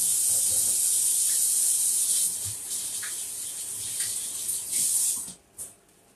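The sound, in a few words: washing hands under running water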